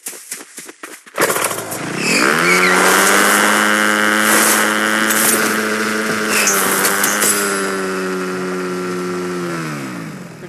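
A vehicle engine in the Fortnite video game kicks in after a brief pause and revs into a loud, steady drone that rises and falls slightly, with no talking over it.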